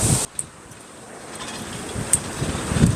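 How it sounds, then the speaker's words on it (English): Steady wind roars and buffets the microphone on a walking bridge in the Florida Keys, with low rumbling gusts that swell toward the end. "Very windy."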